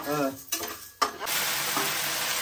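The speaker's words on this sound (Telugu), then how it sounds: "ఎండుమిర్చి ప్లస్ దొడ్డు ఉప్పు అమ్మా మొత్తం మడగొట్టే ఒకే కడాయి మీద వేయించుతా కదా" Dry red chillies and coarse salt roast together in a kadai, giving a dry crackling sizzle with scraping stirs and a couple of sharp clatters, close and steady throughout.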